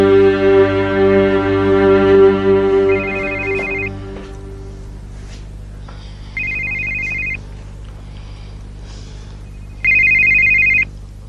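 A telephone rings in short electronic bursts, three separate rings spaced a few seconds apart, over a sustained musical bed in a Turkish drama scene, with no talk.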